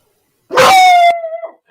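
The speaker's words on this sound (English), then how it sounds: "there's my dog barking at the wind because you can hear it howling outside." A dog gives a single loud close howling bark that stretches into a drawn-out tonal wail lasting about a second, then trails off into a brief whimper, with silence before it.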